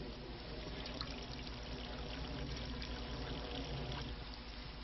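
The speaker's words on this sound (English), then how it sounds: "What we do now is pour the water through this and collect at the other end." Water trickles and dribbles through an improvised sock filter packed with charcoal, sand and moss, a faint, steady, continuous flow with no voices.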